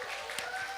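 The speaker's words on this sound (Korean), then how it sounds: "주님께 감사의 박수 올려드릴까요?" A congregation applauds during a Korean church's Wednesday worship service, a brief, moderately faint wash of clapping in a reverberant hall, with a voice faintly present.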